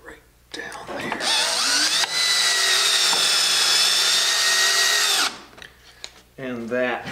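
A power drill drives fasteners through a keelson into the building mold of a Caledonia yawl, a loud, close whine held for about five seconds with a brief pitch change midway, followed by a short spoken voice.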